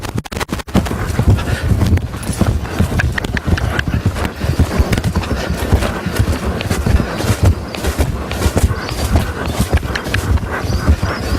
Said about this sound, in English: the horse with you will just dribble into canter